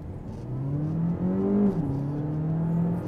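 A Vauxhall Astra GSe plug-in hybrid hot hatch accelerates hard, its engine droning and rising steadily in pitch at high RPM from inside the cabin, with a brief dip as it shifts before climbing again.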